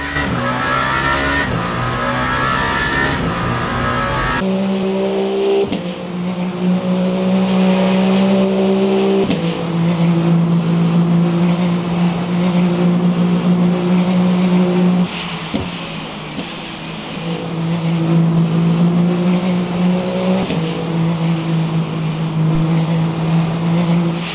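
Race car engines in the Le Mans Ultimate racing game at the 24 Hours of Le Mans, loud sustained droning with pitch rising through the gears, abrupt shifts and cuts between cars, no talking.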